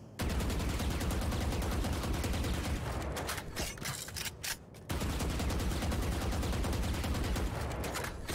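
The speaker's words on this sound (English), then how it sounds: "That's why I hate shooting the Vandal though" Vandal rifle fire in Valorant, rapid sustained automatic bursts with a short break of scattered shots midway, loud and close.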